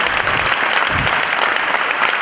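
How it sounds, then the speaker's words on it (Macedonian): A stand-up comedy New Year's show audience bursts into applause, a dense and steady wash of clapping that stays loud and even from start to finish. "дај те аплауз"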